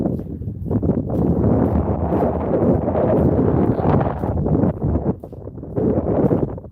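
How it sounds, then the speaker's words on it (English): Outdoor wind buffets an unprotected microphone, producing a continuous heavy rumbling roar that briefly dips near the end before gusting again. "windier right here"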